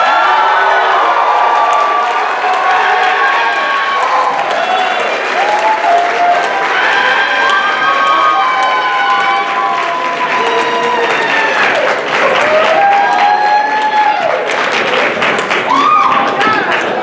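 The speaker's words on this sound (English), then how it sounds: "Please give a round of applause for the conference exec team." Audience applause and cheering at a conference opening ceremony, sustained crowd noise with clapping and voices, some whoops and shouts rising over the dense background.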